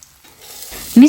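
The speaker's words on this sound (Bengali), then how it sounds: "ভাজার জন্য রুটিটা দিয়ে দিলাম।" An aloo paratha laid into a lightly oiled hot pan starts to fry, quiet rustling swelling into a sudden loud sizzle in the final moment, close up with no talk.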